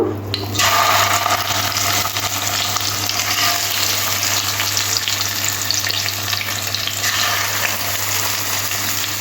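Bata fish frying in hot oil in a pan, giving a loud, dense and continuous sizzle that runs steadily throughout.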